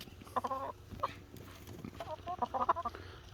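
Young laying hens cluck in bursts inside their coop run, a few close clucking phrases with quiet pauses between them.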